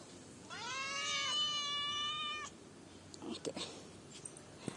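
A kitten in a home backyard lets out one clear, drawn-out meow lasting about two seconds, followed by faint rustling and small knocks.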